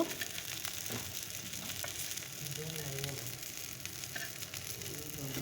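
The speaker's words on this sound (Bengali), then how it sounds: "এখন একটু বেগুন ভেজে নিলাম" Eggplant slices frying in a pan give a steady, close sizzle that hisses and crackles throughout, with faint stirring noises and no talk over it.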